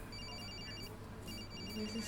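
A telephone rings in a repeating electronic pattern, two bursts of ringtone separated by a short pause, moderately loud over a low background hum.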